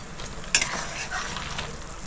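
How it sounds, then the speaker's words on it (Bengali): Mustard gravy for shorshe ilish fish curry bubbles and sizzles steadily in a pan, with one brief utensil clink early on, all at a moderate, close level. "বন্ধুরা গ্রেভিটা খুব সুন্দর ফুটে এসেছে,"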